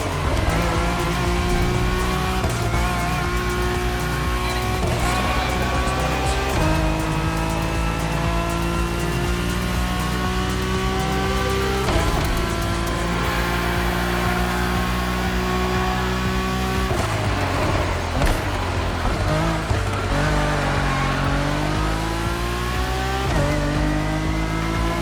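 Acura NSX GT3 race car lapping a track in The Crew Motorfest game, loud engine note rising and falling through repeated gear changes and throttle lifts, with brief tyre squeal at corners.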